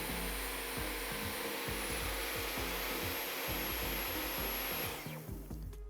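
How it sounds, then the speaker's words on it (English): A Dyson cordless vacuum cleaner pushes across a dirty floor with a constant close whoosh and motor whine. The pitch steps up as suction increases, and scraping rubs sound under it before the whine drops away. "It's increased the suction because it's detected the floor is dirtier"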